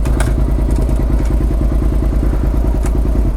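Motorcycle started by bypassing broken clutch wires, its engine running close and loud with a steady, rapid thumping idle throughout.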